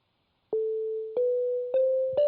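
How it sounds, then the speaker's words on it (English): Four sustained synthesized tones in the long facade tuning system, each starting with a soft attack and rising slightly in pitch, clean and isolated in a quiet room. "And then the long facade system sounds like this."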